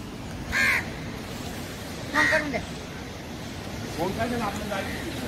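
Three separate caws from a crow near a food offering at a Hindu Chaturmas ritual, spaced a second or more apart, close by over a soft background hum.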